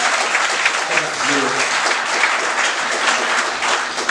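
A church congregation applauds during a Sunday worship service, a steady, dense wash of clapping that holds loud and even throughout, with faint voices mixed in.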